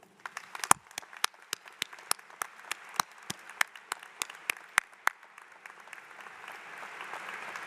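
A university commencement audience applauds steadily, with sharp individual claps standing out over a dense crowd clapping that fades toward a softer, hissy end.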